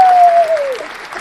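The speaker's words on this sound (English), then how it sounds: "Marcus was trying to cue the applause" Brief burst of applause cued on a live studio talk show, a dense hiss of clapping with a falling whistle-like tone over the first half, fading slightly toward the end.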